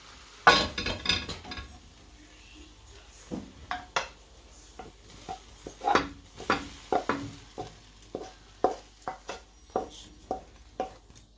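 Cooked food moved from a pan into an oven-safe pot for a one-pot Sunday meal: a run of sharp scrapes, knocks and clinks of a utensil against metal, quiet and close, with short gaps between strokes.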